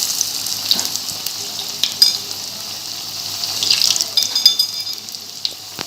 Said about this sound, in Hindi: ऐसे हम एक एक करके पकौड़े डालते जाएंगे।